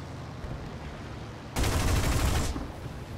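Aircraft machine guns in War Thunder open up in a single loud, dense burst of about one second, roaring over steady engine drone before cutting off.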